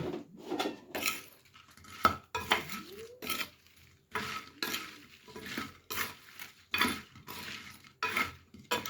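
Spoon clinks and scrapes against a metal bowl as spices are mixed through chopped raw mango for pickle, in irregular bursts of clatter with short pauses between strokes, fairly close and moderately loud.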